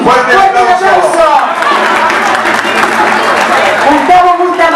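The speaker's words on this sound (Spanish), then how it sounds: "¡Fuerte el aplauso!" Audience applause and cheering for a political candidate at an event, mixed with crowd noise and a loud voice speaking over it.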